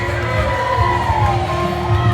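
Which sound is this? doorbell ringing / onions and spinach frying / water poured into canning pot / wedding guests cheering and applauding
wedding guests cheering and applauding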